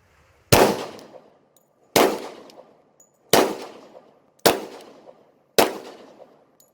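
Five loud, sharp gunshots from a Polymer 80 10mm pistol firing S&B 180 grain rounds with a 22-pound recoil spring, spaced about a second apart, each with a short decaying echo and no talking.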